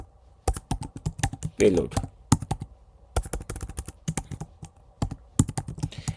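Typing on a computer keyboard comes as close, crisp clusters of key clicks in irregular bursts with short pauses, and a voice briefly speaks between them.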